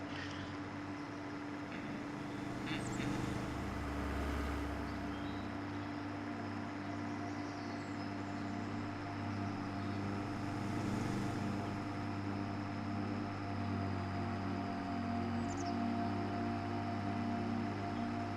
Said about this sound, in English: That is the weirdest sounding engine on that car.